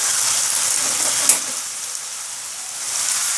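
A cauliflower, potato and meat curry cooks in ghee, giving a steady, close sizzle and hiss with one brief sharper crackle partway through.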